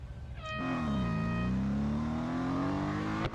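Race car engine in the Real Racing 3 video game, lap at the Nürburgring Grand Prix circuit, revving up hard and holding a loud, steady high drone near the listener before cutting off abruptly at the end.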